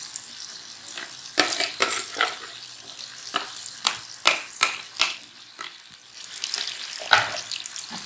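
Yogurt-coated chicken sizzles in a hot pan over a high flame, with bursts of crackling and stirring scrapes at an irregular pace, close and fairly loud, with no talking.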